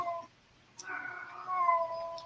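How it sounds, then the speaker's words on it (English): A cat cries out loudly in a home, a drawn-out meow at close range after a short quiet gap, with a second wail following and no talking over it. "The cat is crying out loud."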